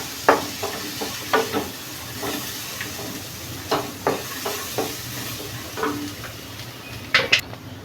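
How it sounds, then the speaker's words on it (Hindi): Chana dal frying with spices in a pan for a brinjal and chana dal dish, soft hissing sizzle punctuated by repeated scraping and knocking stir strokes at irregular intervals, close and without voices. "मसाले के साथ दाल को भी फ्राई कर लेंगे"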